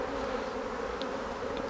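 Honey bees swarming at an open beehive during hive inspection, a steady dense buzz that holds evenly throughout, close and continuous with no voices.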